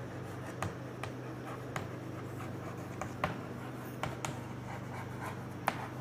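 Writing on a board during a chemistry lesson: soft strokes and short, irregular taps every half second or so over a steady low room hum, with no talk.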